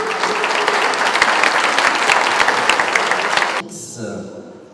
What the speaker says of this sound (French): Le voilà, vous pouvez l'applaudir.